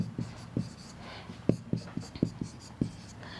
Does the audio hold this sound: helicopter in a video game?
no